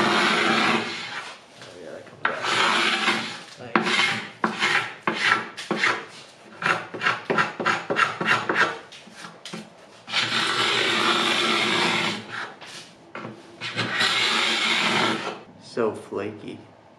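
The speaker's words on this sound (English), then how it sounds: "So we're gonna get started scraping." Bahco carbide scraper scraping paint off wooden furniture, loud rasping strokes in rapid bursts and longer sustained scrapes, close up, with brief pauses between passes.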